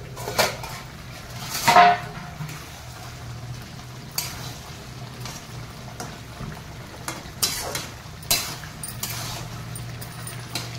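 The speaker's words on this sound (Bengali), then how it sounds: "ঢাকনাটা খুলবো, একটু নেড়ে দেবো" A pot lid lifted off simmering taro, then a spoon stirring it, with a clattering metal clank early on and scattered scraping knocks against the pot over a low steady hum, no one speaking.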